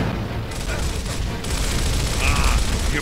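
Shooting in the video game Gears of War, a dense, continuous roar of rapid gunfire and booms filling the whole moment, loud and close.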